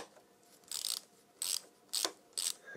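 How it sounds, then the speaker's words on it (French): A 10 mm ratchet wrench unscrewing a bolt on a Kawasaki Z1000SX motorcycle during a sprocket and chain change: four short bursts of close, rapid ratcheting clicks separated by brief pauses, fairly quiet. "On dévisse ça avec une clé de 10."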